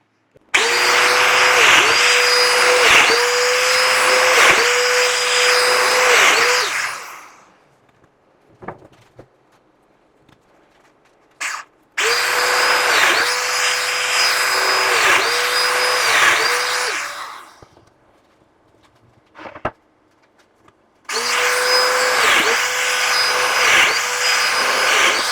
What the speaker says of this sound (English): So what I'm gonna do now is cut some domino slots around the bottom here